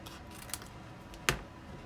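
Scissors snip through a pop-up Christmas card down the center, with a faint early snip and then one sharp cut, quiet and close in an otherwise hushed room.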